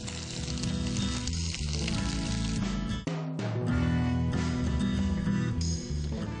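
Tocino, or bacon, sizzles and crackles steadily in a hot pan, a dense continuous frying hiss with a brief dip midway.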